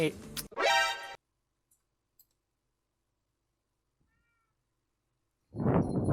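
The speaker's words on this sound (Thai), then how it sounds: "ปล่อยแมว ก่อนแป๊บหนึ่งนะครับผม" A pet cat meows briefly in a room, right after a voice and again near the end, with near silence between.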